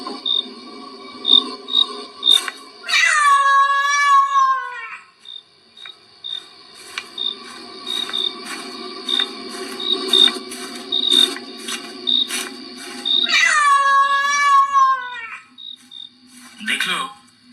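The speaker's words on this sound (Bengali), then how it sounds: "দেখলো একটা কালো বিড়াল তার রাস্তা কাটলো।" A black cat in a cartoon gives two drawn-out, wavering meows about ten seconds apart, in a bamboo grove at night, over a steady, pulsing chorus of crickets.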